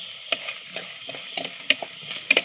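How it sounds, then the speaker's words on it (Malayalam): Small onions and green chillies fry in a pan with a steady soft sizzle, broken by several sharp spatula scrapes and stirring clatters against the pan. "ചെറിയ ഉള്ളി, രണ്ട് പച്ചമുളകും കൂടി ഇട്ട് കൊടുക്കുക."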